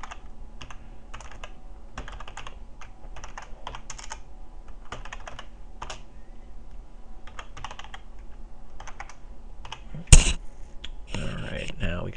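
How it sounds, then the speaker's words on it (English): Quick bursts of keyboard typing click away in uneven runs, fairly close, followed by a sharp knock and some rustling near the end. "what I'm typing in now"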